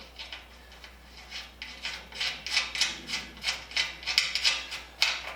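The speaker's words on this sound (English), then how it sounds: "Slip this bolt back in, put the nut back on it so it doesn't get separated." A nut is spun back onto a bolt by hand, making a series of quick, close metallic ratcheting and rubbing clicks in an uneven rhythm.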